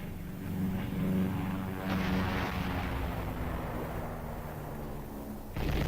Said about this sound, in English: 4 artillery battalions, supported by napalm bomb-carrying aircraft, were brought up to support the assault